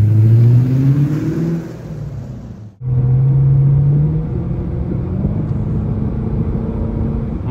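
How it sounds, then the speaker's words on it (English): A 2013 Lexus LS 460 AWD with about 200k miles, fresh from injector and gasket repairs, cranks, catches and revs, stalls briefly, then restarts and settles into a steady close idle with no talk. "My Lexus LS 460 is finally fixed and running and back on the road"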